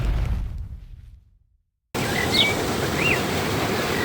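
A natural waterfall on the Chittagong University campus, heard as a steady broadband rush of falling water after a brief silent gap, with a few faint bird chirps over it.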